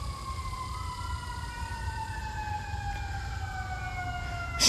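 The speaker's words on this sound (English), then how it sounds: "Every single time I do a live, there are sirens." A distant siren wails with a slowly falling tone over steady low background rumble, faint and continuous throughout.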